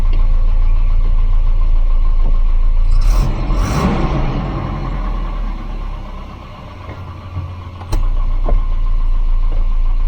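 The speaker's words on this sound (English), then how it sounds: "This engine sounds like a bag of bean tins, doesn't it?" A Volvo 240 engine idling, a low steady rumble that dips briefly mid-way and then returns louder, with a short burst of hissing noise near the start and a sharp click later.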